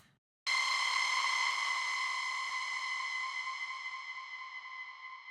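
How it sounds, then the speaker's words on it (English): A bright synthetic witch house tone in FL Studio, high-passed, enters abruptly after a short silence and sustains with dense, bouncing long ping pong delay repeats that slowly fade, giving a wide, echoing tail. "long ping pong delay"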